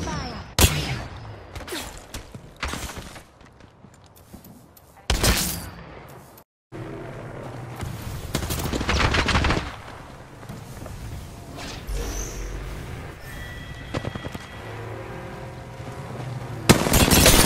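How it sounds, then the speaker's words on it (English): Gunfire in a shooter video game: sharp, loud bursts of shots and impacts break out in several clusters, with quieter gaps between them and game ambience underneath. "I'm getting shot at. I'm spotted. Taking fire."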